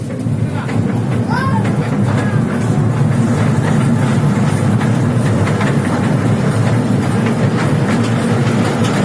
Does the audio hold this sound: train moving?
yes